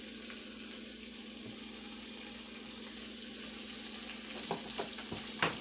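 Onion rings frying in hot oil at home, a soft continuous sizzle with a few clinks and scrapes of a utensil toward the end.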